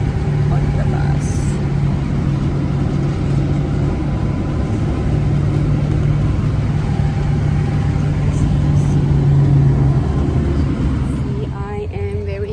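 A bus engine runs with a steady low rumble while riding onboard, loud and continuous, with a faint shift near the end as the vehicle changes pace.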